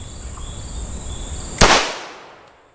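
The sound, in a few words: Scorpion Evo 3 S1 9mm pistol shot at armor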